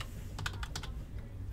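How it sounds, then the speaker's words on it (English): A short burst of computer keyboard typing, several quick key clicks in a cluster, close and fairly quiet over a low background hum. "typing in the word"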